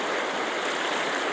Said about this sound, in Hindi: ये मेन रास्ता है। तो मेन रास्ता के ऊपर में पानी जा रहा है